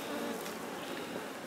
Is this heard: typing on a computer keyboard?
no